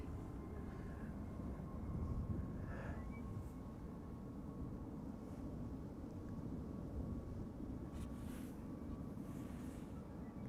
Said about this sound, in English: This is Sun Express flight 1445 going to Konya in Turkey. It's a MAX 8 737.